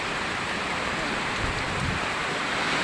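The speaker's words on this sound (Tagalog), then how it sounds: "walang tigil na ulan dito sa amin" Steady, dense hiss of heavy typhoon rain pouring continuously in Cavite, close and loud, with faint voices underneath.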